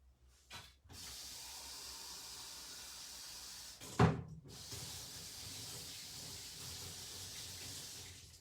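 Water runs from a tap for painting, a soft steady hiss after a brief clunk, interrupted midway by a louder knock, then flowing on quietly in an indoor room.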